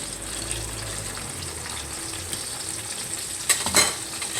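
Dried fish sizzles steadily in a hot frying pan, then a brief clatter of turning near the end as the pieces are flipped; no talking.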